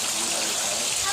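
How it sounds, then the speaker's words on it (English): Ocean water gushing into a tank at a conch farm in Providenciales, Turks and Caicos: a continuous close, loud rushing flow with no pause. "Ocean water, recycling in from the ocean."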